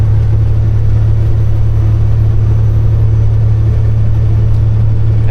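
A Kenworth truck with a fault gives a steady, loud, low droning rumble and hum that holds unchanged throughout, with no revving or pauses.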